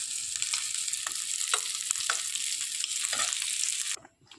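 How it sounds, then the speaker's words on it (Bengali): Prawns finishing in hot oil give a continuous close sizzle with occasional stirring scrapes, then the hiss drops away abruptly near the end. "চিংড়ি মাছ ভাজা হয়ে যাচ্ছে, বাটির মধ্যে নামিয়ে নেবো এবার চিংড়ি মাছগুলোকে।"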